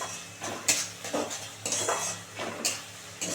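Sugar stirred into a fish curry in a pan, rhythmic spoon scrapes and soft clinks against the pan recurring about every second over a faint sizzle, close and alone.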